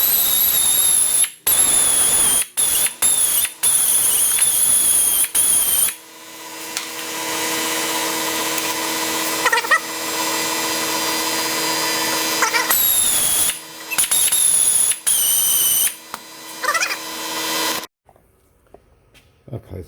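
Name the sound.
wire wheel cleaning Audi A6 rear brake pads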